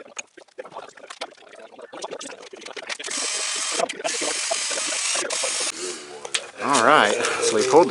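A 20 hp Briggs & Stratton opposed-twin engine on a 2001 Murray garden tractor, turned over by hand, giving a run of ratcheting mechanical clicks and rasps that builds into a steady louder churn near the mic, with a voice cutting in at the end.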